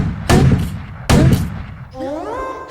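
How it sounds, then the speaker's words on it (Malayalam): A soldier fires a gun all around, giving two loud, sharp bangs about a second apart, followed by a brief rising whistle-like tone. "പിന്നെ നമ്മളെ കിട്ടാത്തതിന്റെ ദേഷ്യത്തിന് ആ പട്ടാളക്കാരൻ പ്രസിഡന്റ് ചുറ്റുപാടും വെടിവെക്കണയാണ്"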